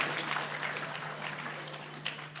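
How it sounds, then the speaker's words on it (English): Church revival congregation clapping hands at Kwaluseni Alliance Church, a soft, diffuse patter of many hands in a hall, steady and fairly faint, with a low constant hum beneath. "Yes, let's clap hands for Ngicela fayini imshayele the tanda."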